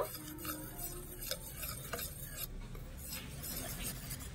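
A spoon stirs and scrapes through a thin batter of flour, salt, pepper and water in a bowl for cabbage fritters, with faint clinks and soft sloshing strokes at a low level.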